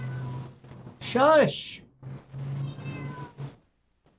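A house cat gives one loud, rising-and-falling meow in a room with a steady low hum, while people talk around it before and after.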